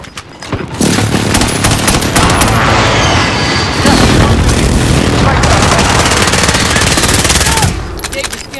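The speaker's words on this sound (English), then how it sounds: "Be advised, friendly precision airstrike inbound." A precision airstrike in a video game sets off a loud, continuous barrage of rapid blasts and booms that lasts about seven seconds, then cuts off abruptly.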